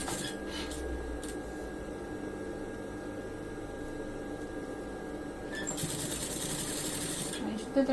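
Sewing machine stitching a denim jeans seam with thick top thread, a steady mechanical whir running close under a speaking voice, with a brief rise near the end.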